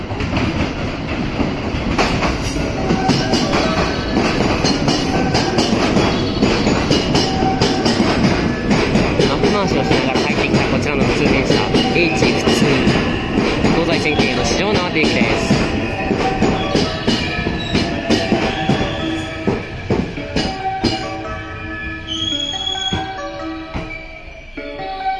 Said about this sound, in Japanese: 4番乗り場に電車が参ります。